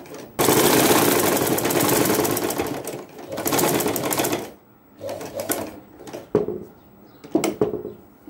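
A sewing machine stitches a collar onto a dress, running loud and continuous for a few seconds, then in shorter starts and stops with handling noises between bursts.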